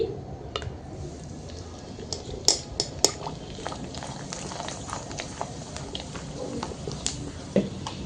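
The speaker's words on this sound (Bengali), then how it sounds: "তেলটি গরম হওয়ার পর একটি পাপড় দিয়ে দিচ্ছি" A papad frying in hot oil, giving a steady bubbling sizzle with scattered sharp clicks and pops of a pan and utensil, close and moderately loud throughout.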